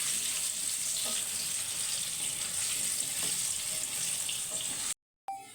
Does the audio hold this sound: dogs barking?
no